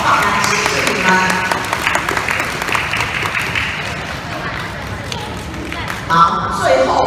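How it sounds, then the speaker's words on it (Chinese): Audience applause for students at a sixth-grade graduation presentation at Puqian Elementary School: steady, dense clapping that runs for several seconds, with voices mixed in. "所以我们要给两次的掌声啊！"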